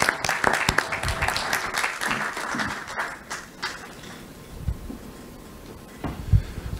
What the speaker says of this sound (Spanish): Por favor, al ingeniero Celso Palacios, fuerte aplauso.